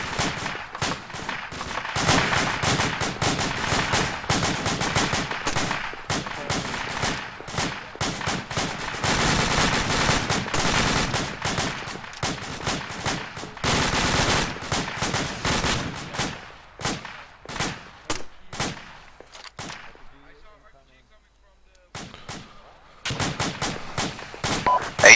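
Sustained gunfire crackles during an infantry contact drill on a training exercise, dense rapid shots near and far continuing for most of the span, thinning to scattered reports near the end.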